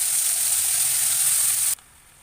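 Honey mayo chicken sauce sizzles and bubbles steadily in a pan, a loud, continuous frying hiss that stops abruptly near the end.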